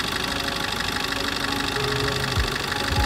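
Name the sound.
Maruti Ertiga diesel car engine running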